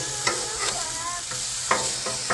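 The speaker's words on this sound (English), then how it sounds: "So let's give these pork chops a flip here." Pork chops sizzle on a hot Blackstone griddle, a steady close hiss broken by several sharp scraping knocks of a spatula as they are flipped, with no talking.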